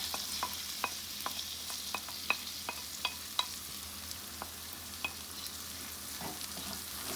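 Shrimp being stirred and dry-fried in a pan with spices and green seasoning while making kaloungy, a steady sizzle broken by sharp, irregular scrapes and clicks of the utensil, close and alone.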